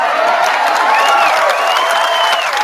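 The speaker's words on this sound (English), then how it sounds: "The cheer, that I think you guys need to hear" A crowd at a political rally in Franklin cheers and applauds loudly, a sustained roar of voices with a few rising whoops and whistles, cutting off abruptly at the end.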